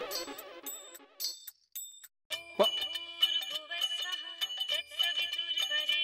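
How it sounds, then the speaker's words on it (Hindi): A phone rings with a bright electronic ringtone, repeated chiming notes forming a melody, fairly faint and continuing without talk. "पोपटलाल का फोन"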